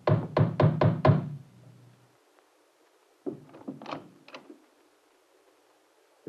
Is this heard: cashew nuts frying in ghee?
no